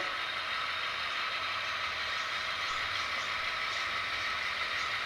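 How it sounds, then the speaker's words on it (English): An HO scale model train runs along a BNSF layout and passes beneath a hidden section, giving a steady, fairly quiet mechanical whir and hum that continues evenly throughout. "And the train's just passing underneath Summit now."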